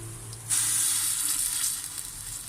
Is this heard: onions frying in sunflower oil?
yes